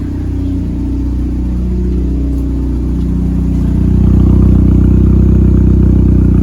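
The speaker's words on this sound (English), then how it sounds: "That's a resonator as an exhaust tip. It works pretty well" A 230 hp turbo Mazda Miata's 3-inch exhaust with a resonator tip rumbles with a deep, steady drone close by, growing louder and fuller partway through as the engine revs up.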